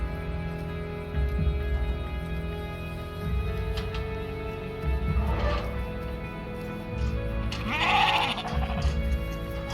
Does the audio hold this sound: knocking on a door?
no